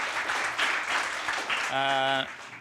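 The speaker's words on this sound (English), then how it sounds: "Another round of applause, please." Crowd applause, a broad wash of clapping that fills the room, briefly overlapped by a voice before continuing.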